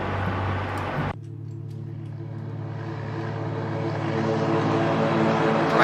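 Twin propeller engines of a Cessna C337 Skymaster in X-Plane 12 droning steadily during a climb, a low, even rumble that starts after a brief shift in tone and swells slightly louder toward the end.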